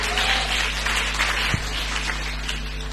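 A church congregation applauds during a sermon, a dense crowd clapping that stays steady for about three seconds over a low hum, with a single sharp thump near the middle.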